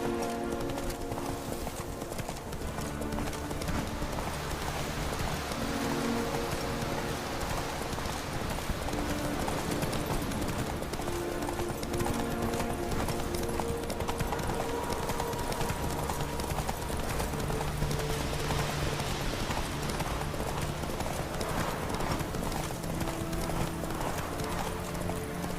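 Roach, a horse in a video game, gallops in a continuous drumming clip-clop of hooves that stays steady and close for the whole stretch, with faint snorts and background game ambience.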